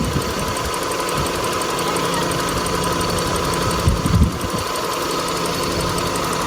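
1993 Toyota Corolla 1.6 SEG with manual gearbox, its engine idling steadily up close with an even mechanical hum and light ticking, plus a brief low thump near the end.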